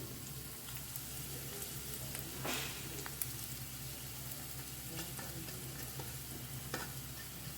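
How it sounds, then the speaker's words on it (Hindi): Chopped ginger and garlic hit a hot pan and sizzle steadily, with a brief louder burst and some faint stirring clicks, heard close and alone with no talking. "अब इसमें डालते हैं अदरक और लहसुन।"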